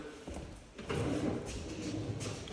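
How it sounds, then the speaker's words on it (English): A drawer in a home being opened or closed during a house tour, a brief soft sliding thud followed by low room noise, with faint background activity and no clear talk. "Check a drawer behind you."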